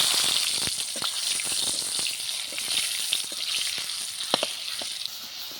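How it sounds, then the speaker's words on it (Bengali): Chopped tomatoes with bay leaf frying in hot oil in a pan, a continuous close sizzle broken by scattered sharp crackles and pops, with no speech. "টমেটোটা খুব সুন্দর ভাজা হয়ে গেছে তেলের সাথে"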